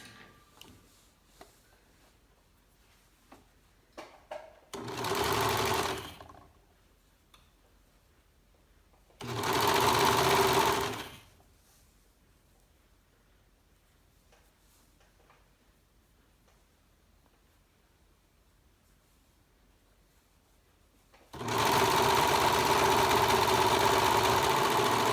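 A sewing machine stitching side seams runs in three separate bursts, each a close, steady mechanical whir lasting a second or more, with quiet handling sounds between them.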